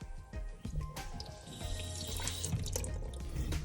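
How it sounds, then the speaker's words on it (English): Water gushes and bubbles from a disconnected toilet supply line, a close, steady splashing flow that starts with a few sputters and then runs continuously. "So we do have water on the line."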